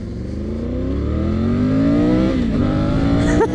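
A 2024 Triumph Tiger 900 GT with a modified engine revs up loud and close, its pitch climbing steadily for about three seconds before a brief dip and a sharp blip at the end.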